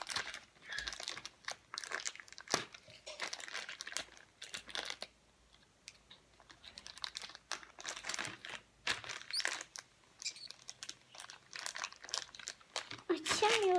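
Plastic packaging of a Barbie Color Reveal wig crinkles and crunches in bursts as it is handled and pulled open, close and fairly loud, with someone talking and laughing in between.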